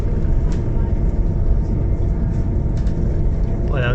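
Steady, loud rumble of a passenger train running at about 130 km/h, a continuous low roar with rattling, and a brief voice at the very end.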